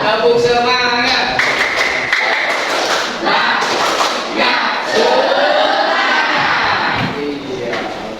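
A school classroom of students performing a rhythmic spirit clap, loud close patterned claps mixed with children's chanting voices throughout.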